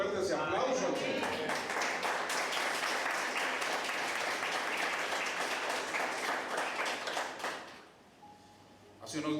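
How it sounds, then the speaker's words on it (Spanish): Church congregation applauding for the Lord during a Spanish-language sermon, a dense, sustained clapping that fills most of the stretch before tapering off, with voices mixed in. "fuerte ese aplauso al Señor"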